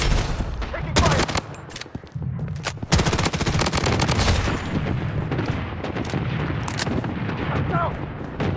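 Loud gunfire and explosions in the shooter game Blood Strike, with an AK47 among the weapons: heavy bursts and booming impacts crowd the opening seconds, then continuous battle noise rumbles on under occasional game voice callouts.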